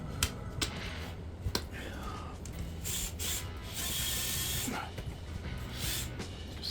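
Screws are driven into a rugged RC car upgrade, giving repeated ratcheting, clicking mechanical bursts with sharp snaps and brief whirring hiss, close and fairly loud, with some faint background voice.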